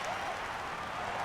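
A golf gallery in the EA Sports PGA Tour video game at the Phoenix Open breaks into a brief, dense burst of applause and cheering, sustained at even loudness.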